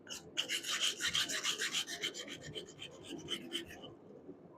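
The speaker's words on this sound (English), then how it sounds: "Scrape off all the extra scale." Scale being scraped off a hot forged Viking cross-guard, a rapid series of close, rasping strokes with a rhythmic back-and-forth scratch that stops near the end.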